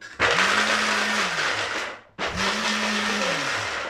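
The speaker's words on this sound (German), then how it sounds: "braucht einen starken Mixer" A loud blender blending acorns for bread whirs at full power, cuts out briefly, then starts up again with the same roaring motor and rattling contents.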